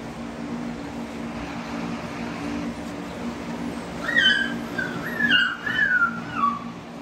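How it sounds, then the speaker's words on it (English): Puppies whimper and yip in a few short high whines near the end, over a steady low background hum, with no talking. "Looking at our beautiful puppies"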